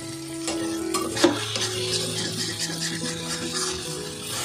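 Tomato goes into sizzling spiced masala for Kolkata Golbari-style mutton kosha, with steady frying hiss, a spoon scraping and stirring the pan, and a sharp clink near the start.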